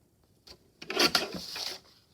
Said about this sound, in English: I'm just going to trim the ragged edge off of this one also